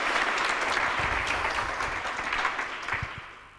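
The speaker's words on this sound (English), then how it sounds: "Give them a hand clap" An audience at a church class claps together in a dense, sustained burst that slowly fades over a few seconds, with no voices.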